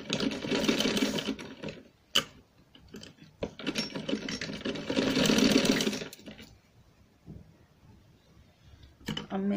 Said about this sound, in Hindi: अब मैं साइडों की सिलाई लगाऊंगी।